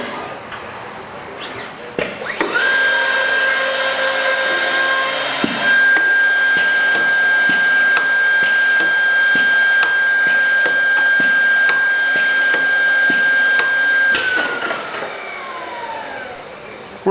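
A 965X cutting machine runs its calibration cut sequence: a loud steady motor whine with a high sustained tone, a clunk as it starts, faint ticking through the run, then it winds down.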